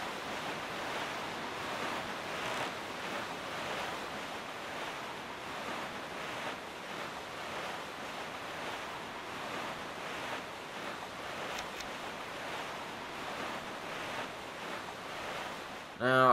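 A ship sails across the sea at night in The Legend of Zelda: The Wind Waker, a steady wash of waves and wind rushing continuously at an even level throughout.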